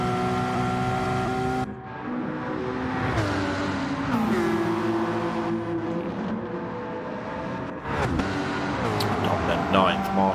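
A GT4 McLaren and a GT4 Nissan Silvia race in a sim racing game at St Croix, engines droning and shifting pitch through gear changes, with a brief lift around the middle and more revving toward the end.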